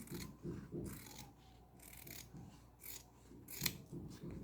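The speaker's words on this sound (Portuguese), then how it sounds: "aqui na parte de dentro, a gente vai cortar aqui, ó, também" Scissors cutting fabric for a clutch bag, a series of soft, close, rhythmic snips and rasping slices repeating several times at low volume.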